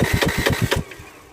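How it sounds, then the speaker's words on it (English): The starter motor of a Ford Mondeo 1.8 Duratorq diesel cranks in a quick, even chugging rhythm for under a second, close and loud, then stops and leaves a faint hum. "Now look what happens when I press the crank, the starter motor."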